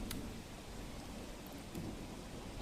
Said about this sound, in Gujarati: વાપીના વલસાડમાં મેઘરાજા અવિરત વરસી રહ્યા છે